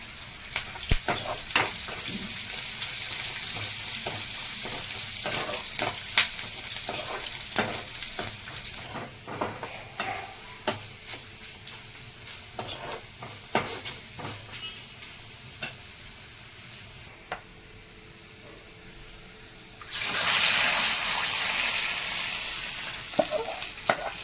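Chopped small onion and curry leaves sizzle in hot oil for a Kandi pappu charu tempering, with a steady crackling fry, repeated ladle ticks against the pan, and a louder hiss surging late on.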